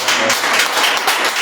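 A church congregation claps together during a worship service, a dense, loud burst of hand claps lasting a moment with no talk over it.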